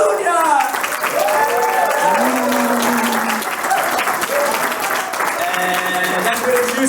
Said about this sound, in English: Can we have a round of applause for Abhishek, Salunia?